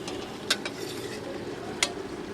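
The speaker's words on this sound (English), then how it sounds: "Now I'm going to add some mung peas, which I've soaked overnight, and stir those in." Soaked mung peas are stirred into a pan of frying masala and onions, a steady sizzle running throughout with a couple of sharp spoon scrapes against the pan, close up and without speech.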